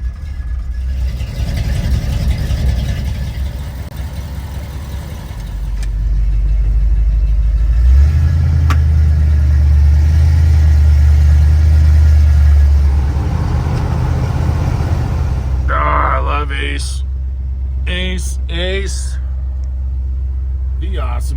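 A 1952 Dodge Wayfarer engine idles while warming up, giving a continuous low rumble that swells louder midway and then eases back, with people talking nearby near the end.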